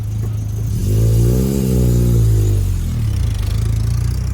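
Volkswagen Rabbit engine pulling away in second gear, a close steady drone that swells in pitch and loudness as it revs, then settles back, with no talk.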